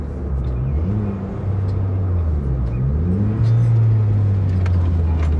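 A turbocharged Honda Brio hatchback's engine hums steadily and rises in pitch as it takes a fast corner on a quiet one-way road, with road rumble underneath and no voices.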